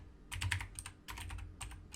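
Soft, close clicking of a computer keyboard comes in short bursts of quick keystrokes separated by brief pauses, with no voices present.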